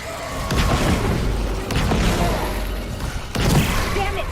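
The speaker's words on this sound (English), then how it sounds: "the explosion fried half the circuit." A heavy, rumbling explosion from the Dead Space Remake video game rolls on for several seconds with a few thudding bursts, loud and dense, without any talk over it.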